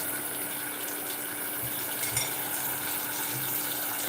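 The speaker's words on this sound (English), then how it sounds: "Stir it thoroughly to mix up with the tuna." Tomato sauce with tuna cooking in a pan, a continuous soft sizzle and bubbling with a few faint scrapes of stirring.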